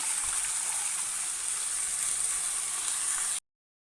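Gongura leaves cooking in a pan for chutney, a steady soft sizzle and hiss of moisture steaming off the greens, close and unbroken until it cuts off abruptly.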